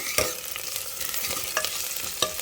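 Fennel and cumin seeds fry with browned onions in a pan for veg kurma, a steady close sizzle broken by a few sharp scraping stirs of a spoon.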